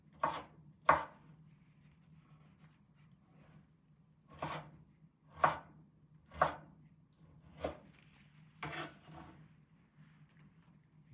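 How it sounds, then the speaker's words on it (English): A knife chops raw tomatoes for an unsweetened organic salad, about nine separate sharp cuts spaced unevenly over several seconds, close and crisp against a quiet low hum, with no voices. "I just chop the tomatoes and I put it in there."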